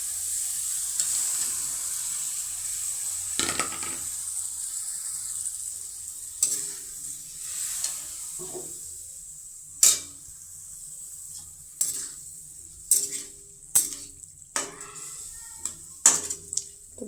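Meat frying with spices in a pan gives a steady soft sizzle, broken by repeated sharp scrapes and knocks of a utensil stirring against the metal, growing more frequent toward the end.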